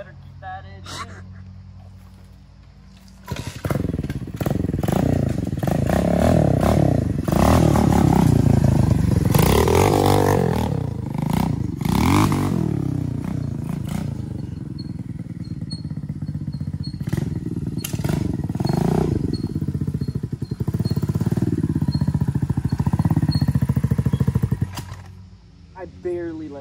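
A mini dirt bike engine starts up on a dirt trail, then revs and runs loud and close for about twenty seconds with rising and falling throttle, rattles and scrapes, before cutting out.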